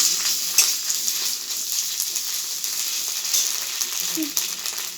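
Ginger paste and spices fry in hot oil in a pan, a dense, steady bright sizzle with a few light clinks, fairly close and continuous throughout.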